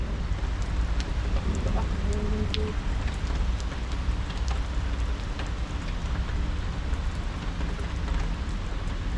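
Steady heavy rain pours down in a continuous dense hiss with scattered drop ticks, loud and close throughout, with no talking.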